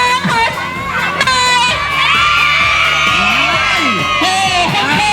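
A crowd cheers loudly at a tug-of-war match between teachers and parents, with continuous shouting, whoops and children's yells that hold steady for the whole stretch.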